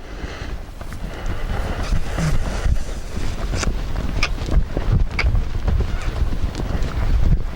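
A horse trotting outdoors, a steady rhythmic run of hoof beats close to the microphone, accompanied by wind buffeting.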